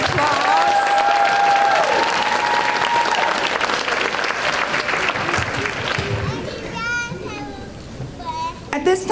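An audience at a school district awards ceremony gives the children a long, loud round of applause with scattered cheers, while children's voices and chatter rise through the clapping near the end.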